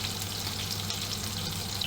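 Meatballs frying in a pan at home: a steady, even sizzle with a soft hiss throughout, moderately quiet and close, with no voices.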